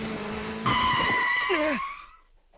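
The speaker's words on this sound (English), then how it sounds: "As I round the corner, a motorcycle nearly runs me over" Motorcycle skidding to a stop in the video game Dramatical Murder: a loud, close tire screech with a rising whine that bends and fades into quiet.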